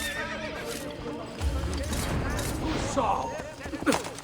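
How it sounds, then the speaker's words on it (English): A horse gallops with pounding hooves and neighs loudly in an Assassin's Creed Brotherhood battle, with clashing combat effects and a voice talking over the action. "one rode in on a horse"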